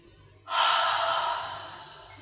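A long, breathy exhale during a yoga session begins abruptly after a short quiet pause, heard close and fairly loud, then slowly fades away with no speech.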